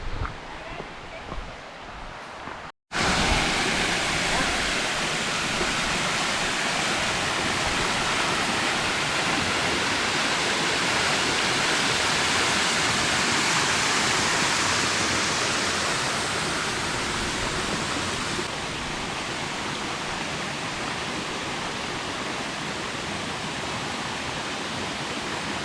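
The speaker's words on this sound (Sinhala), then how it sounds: "ඉතින් ලංකා ඇල්ල දියල් ඇල්ල මෙහෙම වගේ තමයි තියෙන්නේ." Steady, loud rushing roar of Lanka Ella waterfall in Sri Lanka, continuous and close, after a brief quieter opening with a short break; no voices over the roar.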